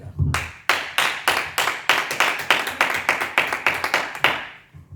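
A church congregation claps in a steady rhythmic beat, a dense, close, lively run of handclaps that rings out for several seconds before fading at the end.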